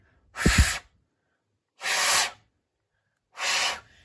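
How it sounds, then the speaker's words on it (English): Three short puffs of breath blown into an iPhone charging port to clear dust, each a breathy rush of air separated by quiet pauses, close and fairly soft. "And then if you want, just blow on it a bit."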